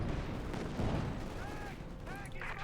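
MG 42 machine gun fire from a Company of Heroes 2 battle, Wehrmacht versus Soviet forces, rattling in dense bursts amid distant explosions and battle noise, with a commentator talking over it.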